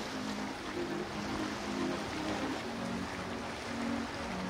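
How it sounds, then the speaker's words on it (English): Continuous broadband rush of a Leopard 31-meter motor yacht moving through water near Haulover Inlet, Miami, with a low engine drone and a faint tonal hum underneath. "the awesome Leopard 31 meter motor yacht"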